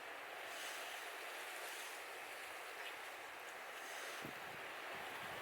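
Rough sea surf breaks along a rocky Scottish coast, a broad continuous roar of churning waves mixed with gusting wind buffeting the microphone, with one heavier surge near the end.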